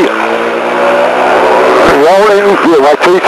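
Light aircraft G-KEVS at full takeoff power on runway 33, a loud steady engine drone with a rising harmonic whine, overlaid by a voice on the radio toward the end.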